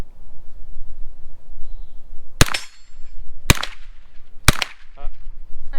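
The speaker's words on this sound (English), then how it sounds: "Go ahead and fire a couple more." Three sharp 9mm shots from a Bilson Arms forward-charging pistol crack out at an outdoor range, spaced about a second apart, loud and close with brief ringing decay over a background of wind and faint noise.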